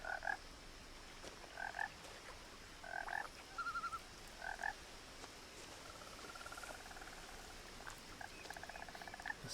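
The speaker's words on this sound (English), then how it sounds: "The sound of frogs." Frogs croak in the video game What Remains of Edith Finch: short bursts of croaking repeat every second or so, then give way to a longer trilling chorus, all fairly faint over a quiet outdoor bed.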